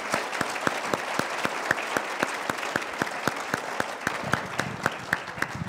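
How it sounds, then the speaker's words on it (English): A round of applause at a law school conversation event, heard as sparse, individual claps from a small audience in a steady, evenly spaced rhythm, fairly quiet and distant in the room. "So let's give them a round of applause for that."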